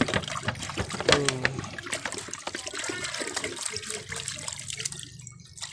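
Liquid is poured into a basin while mixing a photosynthetic bacteria culture, giving a steady splashing trickle with short gurgles, close and moderately loud, with faint talk in the background.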